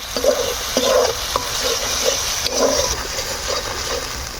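Salt and turmeric powder being stirred into spiced masala in a pan while cooking chicken scraps with taro leaves, a steady scraping and stirring with a soft sizzle underneath, close and continuous.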